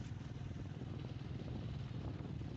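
A motorcycle rides over a rough, sandy dirt road, its engine a steady low drone with constant rumble and road noise throughout, fairly close and without talk.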